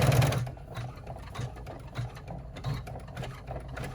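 An embroidery machine stitches a small reinforcing tack on a slim cell-phone bag, making a quiet, steady, rhythmic mechanical chatter with soft periodic thumps, close by and without talk.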